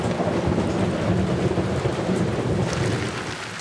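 A loud, steady thunderstorm of heavy rain with deep rumbling thunder, the first big storm of the rainy season sweeping over the city around Karamo Beach in Lagos, continuous for the whole stretch with no voices.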